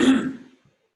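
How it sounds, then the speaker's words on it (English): A single close, short throat clearing from a man about to address a commercial real estate panel, fading out quickly into silence. "Let me clear my throat."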